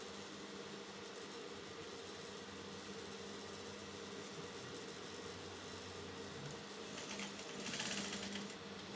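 A sewing machine hems the lower edge of a blouse sleeve, running as a steady, continuous whirring hum, moderately quiet and close, with no voices.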